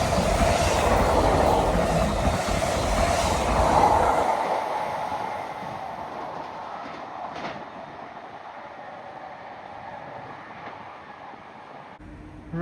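Train pulling into a London station platform, rumbling wheels and a rising metallic rush that swells for several seconds, then fades to quiet as it slows and stops.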